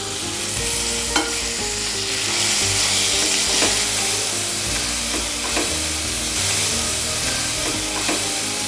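Chopped onions fry with a pinch of salt in a pan for matar pulao, giving a steady close sizzle with occasional soft clicks of stirring throughout.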